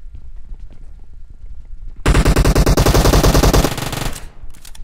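Rapid, loud gunfire from a video game shotgun fight bursts in after a quieter stretch, a dense volley of repeated blasts lasting about two seconds before fading.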